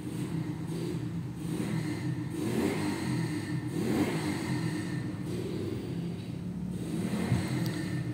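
A Raider 150 pit bike fitted with a 70mm steel block engine runs steadily nearby, its mid-pitched motor swelling in repeated revs over a constant drone, with no talking.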